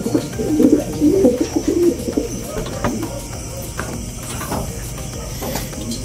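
Pigeons coo in low, throaty bursts, loudest at first and then softer, over a faint background of ambient noise.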